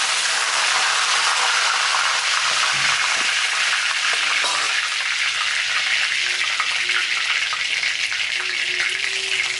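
Curry leaves sizzling in hot oil for a Chettinad quail curry, a loud, steady broadband frying crackle that runs unbroken and close throughout, with no talk over it.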